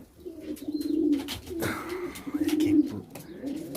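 Pigeons cooing inside a breeding loft, with low rolling coos repeating in two clear bouts, plus faint wing flutters and rustling nearby.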